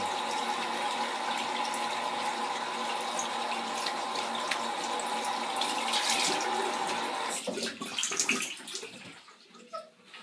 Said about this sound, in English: I'll just rinse that soap off.